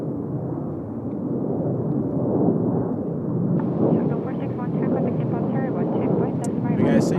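A Shandong Airlines airliner departing Incheon Airport gives a loud, steady jet roar that swells and holds for several seconds, heard from outdoors with faint voices nearby.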